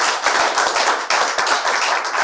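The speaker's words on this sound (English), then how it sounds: "Shall we give him a hefty clap as well?" Audience at a book launch clapping steadily and fairly loudly throughout, a dense crowd of hands with no talk over it.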